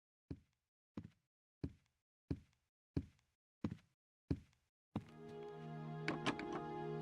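Trying a locked door in Gabriel Knight 3: seven evenly spaced, sharp knocks or thuds, each clean and separate, followed by a sudden dense burst of game sound.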